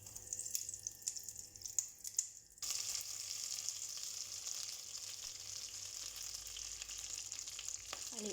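Spices for chicken curry hit hot oil, starting with light scattered crackles and then breaking into a steady loud sizzle that runs on close-up, with no talking.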